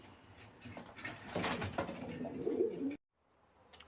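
Frill stencil pigeons coo in a loft, several birds calling close together in soft overlapping rolls for about three seconds before falling silent.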